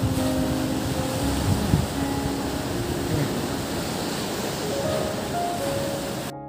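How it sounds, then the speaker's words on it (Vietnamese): Rough sea at Dinh Cậu on Phú Quốc, churned up by a south wind: a steady, loud wash of surf and wind noise rolling on without pause. "Chỉ bữa nay ở ngoài Dinh Cậu á có gió nam nên biển hơi động một xíu"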